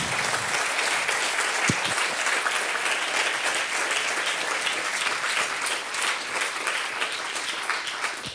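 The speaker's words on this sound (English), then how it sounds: "please, one round of applause more for Ruth Mace." Sustained audience applause after a science lecture on evolution and culture at Prague Castle: a dense, even wash of clapping from a large hall crowd, loud and steady for several seconds with no talk over it.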